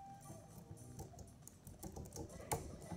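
Typing on a computer keyboard, a steady run of quick soft key clicks close by with a slightly louder tap near the end, no voices over it.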